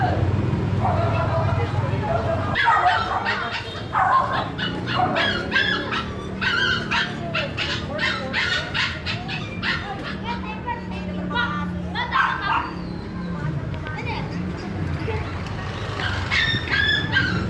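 An imported dog gives yips, whimpers and short barks at moderate distance, recurring through a noisy outdoor scene with people talking and children's voices around it.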